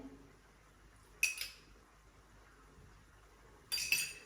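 Two short clinking bursts of utensils against a bowl, separated by a quiet pause, as a Niçoise salad is tossed with dressing.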